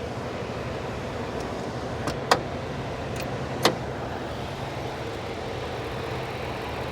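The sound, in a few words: American truck V8 engine running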